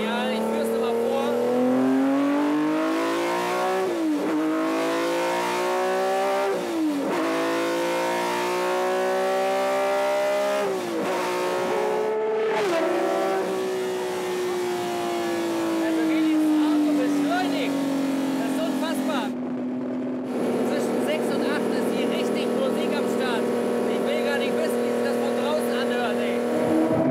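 Engine of an old BMW revving and pulling through a series of precise gear shifts, pitch climbing then dropping at each change, loud and steady throughout with brief gaps at the shifts.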